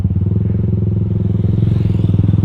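A Honda Sonic 150R motorcycle engine runs steadily while riding, giving a close, continuous low throbbing drone with a rapid pulsing rhythm and no voices over it.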